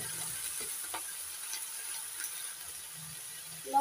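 Taro leaves and green chilies frying in a pan give a steady, soft sizzle close by, with a few faint utensil knocks and a brief clatter near the end.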